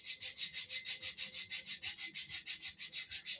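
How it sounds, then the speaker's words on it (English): Foot file rasping over the skin of the feet in quick, steady back-and-forth strokes, close and fairly quiet, with no talking. "I hate filing my feet, but sometimes needs must."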